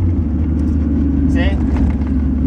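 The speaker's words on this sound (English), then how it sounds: "Now the car is slowing down using engine braking." A car with a 5-speed manual gearbox in third gear engine-braking with the throttle off, a steady low droning hum that carries on throughout while someone talks over it.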